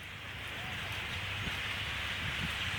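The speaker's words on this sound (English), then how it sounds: "Listen to the bird shit falling." Droppings from a departing migrating flock patter down like light rain, a soft, continuous hiss of tiny impacts that stays even and moderately quiet throughout.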